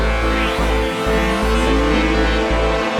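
A wave splicing synthesizer patch built in the Grid plays several layered parts together with modulated tuning: a steady, loud electronic drone with rhythmic low pulses and a rising swept tone, with no talking.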